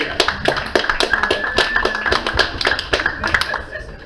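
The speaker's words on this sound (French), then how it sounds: "Et c'est Monsieur Réaliste, on l'applaudit!" An audience claps for a contestant at a spoken-word performance evening, with a quick irregular patter of hands close by and a voice talking over it.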